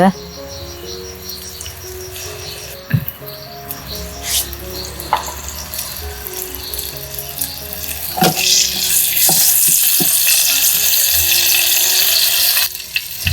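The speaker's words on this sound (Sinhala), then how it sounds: "සුදු ලුණුයි, ඉඟුරුයි, කුරුඳු පොතුයි එකතු කරගත්ත තෙම්පරාදුවට" Garlic, ginger and cinnamon bark frying in hot coconut oil for a tempering, a steady loud crackling sizzle that builds and holds, with occasional clinks of a utensil against the pot.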